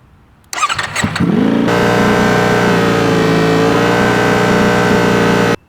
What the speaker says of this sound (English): I want to show you the differences with the dB killer and without the dB killer